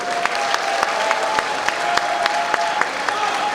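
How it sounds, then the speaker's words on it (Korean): Applause from a crowd at a Gyeongbuk volunteer crime-prevention association rally, honoring provincial council members: steady dense clapping with sharper individual claps standing out, continuous and moderately loud. "저 도의원님들께 박수 한번"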